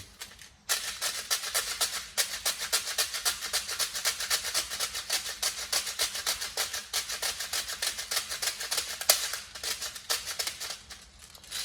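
A Tokyo Marui SGR12 AES airsoft shotgun fires BBs in a sustained, fast rhythmic series of mechanical cycling clicks and impacts, steady and moderately loud after a short quiet start.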